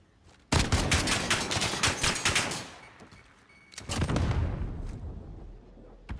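A grenade explosion in a 1v1 video game gunfight, with a loud burst of rapid gunfire and blast noise that decays, then a second heavy boom rolling out into a low rumble.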